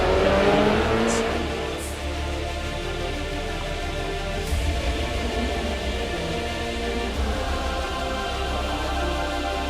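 Ferrari Challenge race cars accelerate at a race start at Spielberg, a loud, sustained engine roar with rising harmonic tones that stays steady and continuous throughout.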